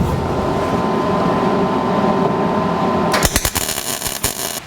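A tack welder fuses a fabricated firewall piece on a 1949 Chevrolet gasser, a short burst of crackling, sputtering arc after a steady droning hum, loud and close, with no talking.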